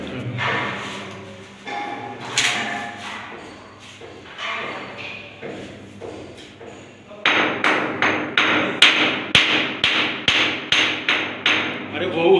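Metal striking a buried pipe to find a blockage by its sound: irregular knocks at first, then a fast run of sharp, loud, evenly spaced clanging hits close by.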